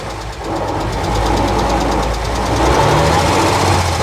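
Loud, close diesel rumble of a Mercedes Unimog backing up in reverse, a steady knocking drone that swells slightly and holds for a few seconds.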